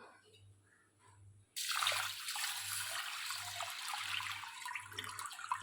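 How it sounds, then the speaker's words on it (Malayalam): Water is poured into a cooking pot for palada pradhaman, a steady rushing splash that starts abruptly and continues loudly over a low, pulsing hum. "അപ്പോൾ ഞാനിതൊന്ന് വെള്ളമൊഴിച്ച് വേവിക്കാൻ പോവാം"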